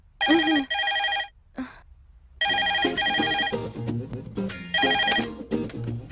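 A telephone bell rings in a film scene: loud, bright ringing bursts with a short silent gap, then repeated ringing with busier soundtrack sounds underneath.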